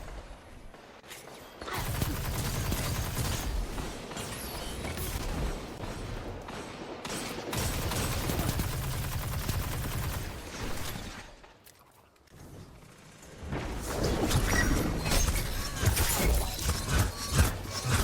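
Gunfire in a Destiny 2 Crucible match: bursts of rapid shots and impacts in two long volleys separated by a brief quieter gap, then more dense firing, with game effects throughout.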